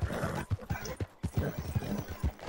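Rhythmic clip-clop of horse hooves in a video game roleplay, steady and fairly close, repeating in a loping beat with a low rumble underneath.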